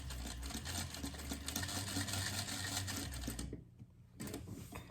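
A sewing machine stitches fabric for a frog plush, running steadily with a close mechanical whir, then stopping briefly before starting up again.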